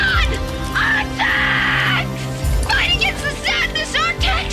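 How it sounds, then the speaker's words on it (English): Film scene of a boy screaming desperately while trying to save his dying horse, with repeated loud shouted cries and strained animal-like wails, several bursts separated by short pauses, no music underneath. "All we hear are the desperate screams of Atreyu frantically trying to save his horse, as well as distressing sounds coming from Artax"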